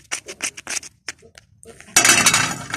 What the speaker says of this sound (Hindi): इसका आवाज़ देखो, आवाज़ सुनाई दे रहा है। बिल्कुल ड्राई नींबू है।